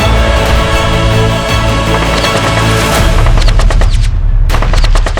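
Gunfire during the Nuh violence in the Aravali hills: loud, rapid bursts of automatic and repeated shots, close and harsh, continuing through the clip with no clear talk.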